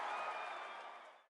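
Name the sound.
stadium crowd cheering in video game MLB 15 The Show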